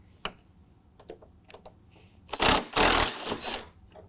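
Grille bolts come loose under an 8 mm socket during a headlight bulb job. A few sparse ticks and clicks give way to two loud bursts of rapid, buzzing ratchet or driver whirring, close up with no speech.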